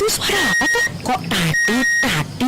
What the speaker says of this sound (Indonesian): itu suara alarm token listrik.